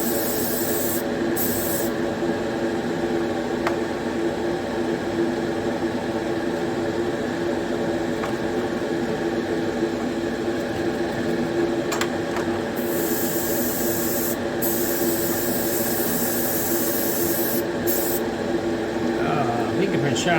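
Misting coats of weathering pigment sprayed onto a 16T mineral model wagon, a steady soft hiss running continuously at close range, with a few brief breaks in the spray.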